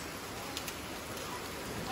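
Hailstones pelt the ground during a heavy hailstorm, a dense, steady, close hiss of countless small impacts with a few sharper clatters, continuous and loud with no talk.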